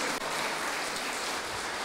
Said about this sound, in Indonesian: sekarang beri tepuk tangan